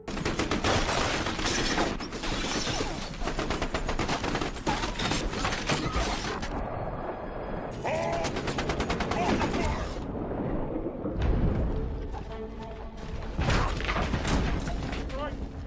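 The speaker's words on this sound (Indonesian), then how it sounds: "Keegan dan para anak buahnya langsung memberondong tembakan ke tempat persembunyian Bobo" Bursts of film gunfire spray a hiding place, dense crackling volleys with mechanical clatter and booming impacts over a continuous soundtrack, with brief lulls between loud salvos.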